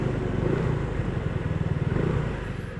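A KYMCO RTS R165 scooter engine through its stock exhaust, a steady, fairly quiet low putter with a pulsing idle-like rhythm, heard close with road ambience.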